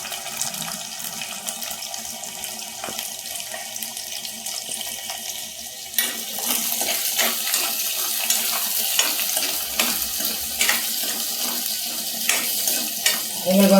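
Onions and garlic frying in oil, a close, steady sizzle that grows louder and busier partway through as more goes into the pan, with scattered crackles and no speech.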